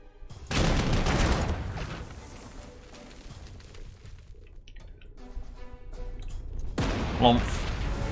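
Bombing strike on an artillery infantry unit in the wargame Panzer Corps, with a loud burst of explosive crackle and rumble early on, a quieter decaying tail, then another sharp blast near the end.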